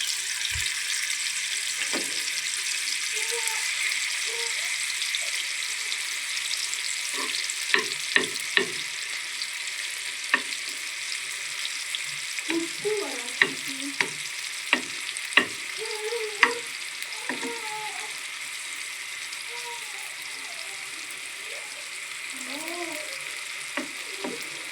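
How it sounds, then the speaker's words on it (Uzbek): Onions frying in melted butter give a low, steady sizzle, with sharp spatula scrapes and taps against the pan scattered through the middle. "hozir piyozni qovurib olamiz."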